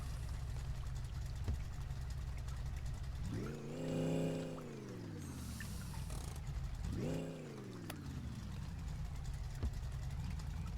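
A big car's engine idles low, then revs up twice in long rising surges as it creeps forward onto a garage hoist, settling back to a steady idle between pushes.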